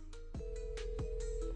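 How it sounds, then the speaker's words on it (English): A phone rings in a video game, giving a few electronic ringtone pulses with clicks and beeps against a steady background hum. No one speaks. "This phone's been ringing for like 20 minutes already."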